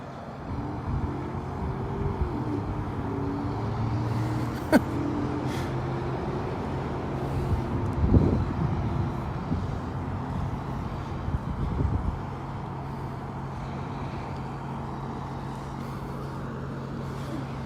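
A car pulls up and stops at a roadside checkpoint, its engine and tyre rumble steady and fairly close amid low traffic noise, with no talk.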